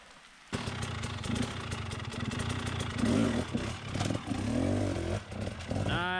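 A dirt bike engine revs and bogs continuously while the rider climbs over rocks, its loud mid-pitched drone rising and falling in uneven bursts with a few sharp throttle blips near the end.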